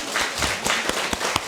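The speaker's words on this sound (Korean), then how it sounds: "착한 우리 성도들 박수 한번 해야 되겠죠?" A church congregation claps during a Friday prayer meeting, a brief, loud stretch of dense applause with a few sharper individual claps standing out.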